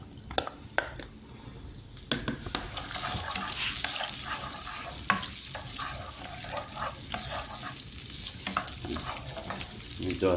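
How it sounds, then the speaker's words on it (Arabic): Onions soften in a hot pan as the first step of a carp fish dish, giving a steady, fairly quiet sizzle broken by stirring clatter and scraping, with no voices. "اول حاجة البصل، ندوها تقريبا لمدة 5 دقايق، يا دوب تدبل معانا"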